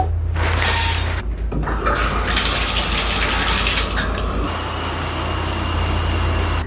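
Water runs from a tap into a mug at home, a steady close gush that shifts in tone partway through as the mug fills, with no talk over it.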